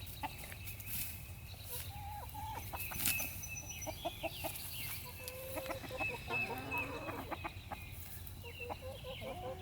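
Backyard hens clucking softly and steadily while pecking at kitchen scraps, with a few sharper calls among the flock.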